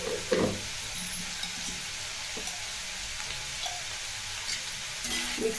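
Bitter gourd curry with jaggery and salt being stirred in a hot pan, with a steady close sizzle and occasional scraping stirs, free of talk.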